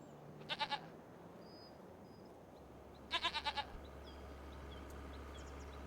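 Goats bleat in Farming Simulator 25, one short quavering call early and a longer wavering call a few seconds later, fairly close over a quiet ambient bed of farm background noise.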